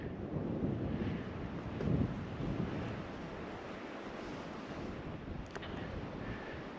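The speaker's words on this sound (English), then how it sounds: "Really windy today." Strong winter wind blows outdoors at Rockport near the water, a loud, rough gusty roar buffeting the microphone, heaviest early and then settling into a steady rush.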